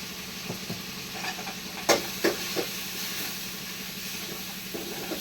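Ingredients sautéing in oil in a pan produce a soft continuous sizzle and hiss, punctuated by a few sharp scraping stirs of a utensil against the pan, heard close and moderately quiet.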